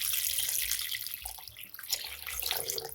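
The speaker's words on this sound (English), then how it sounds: "I'm gonna pour some cold water right inside this bowl until they are completely covered." Cold water runs from a tap into a bowl of frozen shrimp, a continuous hissing, splashing stream whose pitch and texture shift as the bowl fills, close up with no voices.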